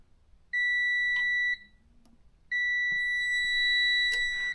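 A multimeter in continuity mode tests wiring in a BMW E30, giving two long, steady, clean beeps close up, the second starting about a second after the first ends, with faint handling clicks between them.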